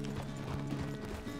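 Horse hooves clop in a steady walking rhythm in Red Dead Redemption 2, close and continuous over a dense background of tack and ambient noise, with no speech.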